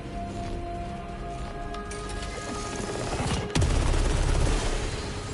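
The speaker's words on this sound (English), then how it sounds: "Eruptor hand cannon." Eruptor hand cannon firing in the video game Saros, heard as a dense, continuous roar of gunfire that grows louder and heavier halfway through, layered over game music with no talk.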